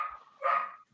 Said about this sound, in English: Hey, dog is barking.